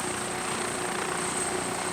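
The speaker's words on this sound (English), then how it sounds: "The helicopter is a complex flying creation" A helicopter flies, its engine and rotor making a steady, loud, even drone that holds without a break and with no voices.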